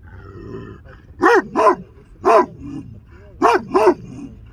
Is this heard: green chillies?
no